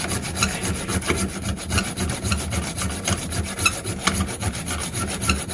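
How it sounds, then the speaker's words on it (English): A junior hacksaw cutting through the metal frame of a Morris Traveller in quick, steady back-and-forth strokes, close and moderately loud, with no talking. "Gap isn't big enough for the proper hacksaw, so it's a junior hacksaw for this one."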